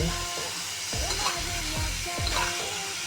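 Fish and teasel gourd (kakrol) in a hot pan: a continuous close sizzle broken by several sharp scraping strokes of a spatula stirring the spices.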